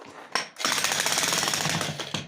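A jackhammer chisels into a pigsty floor in one loud, close burst of rapid pounding after a couple of short starting knocks, steady and alone.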